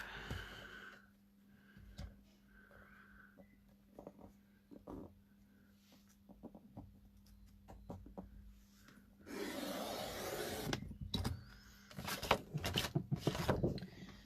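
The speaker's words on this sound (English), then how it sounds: "Let's just bring my trimmer in." Paper trimmer slicing a border strip from a mixed media layout, preceded by light handling and rustling of paper, then a louder scraping slide of the blade with a few clicks near the end.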